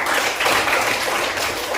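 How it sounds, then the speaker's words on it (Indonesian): Indonesian classroom applauding a student named Agus during a maths lesson, a dense, continuous patter of many hands clapping at once, fairly loud and steady throughout with no talking. "kasih tepuk tangan dulu buat Agus"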